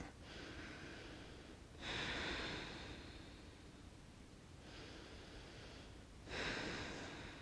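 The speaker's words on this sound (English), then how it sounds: "Listen to the calming sound of your own breath" Calm, slow breathing during an anxiety-relief yoga practice, two close, soft breath cycles, each a long airy inhale or exhale swelling and fading, with quiet pauses between.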